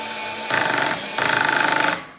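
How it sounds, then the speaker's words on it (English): A cordless drill drives a fastener into material with its clutch set too light, giving two loud whirring, ratcheting bursts of clutch slip separated by a short pause, close up with no voices. "You could hear that clutch engaging"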